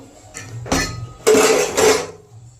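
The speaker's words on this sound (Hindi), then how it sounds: "और ये चाय वगैरह के बर्तन है, सुबह बच्चों का लंच बनाया था वो।" Dishes and tea pots clink and clatter as they are washed by hand in a home kitchen, several close, loud bursts of metallic rattling over about two seconds, with no voices.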